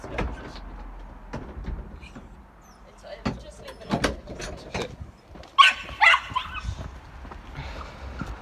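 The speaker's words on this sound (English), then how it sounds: "So I'll shut this door." A door is shut with a brief bump and rattle in a house where a terrier is being trained, amid people talking and scattered thuds.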